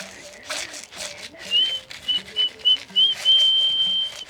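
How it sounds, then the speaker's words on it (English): Someone tries to whistle, producing thin, wavering high tones in short broken bursts that steady into a longer note near the end, amid rustling and shuffling. "Can you whistle while I shake?"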